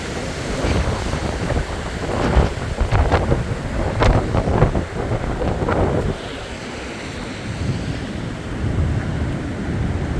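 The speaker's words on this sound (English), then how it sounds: "it's wind and ice" A winter wind storm outdoors among ice and downed trees, with loud gusty roaring and buffeting against the microphone that swells and eases over several seconds.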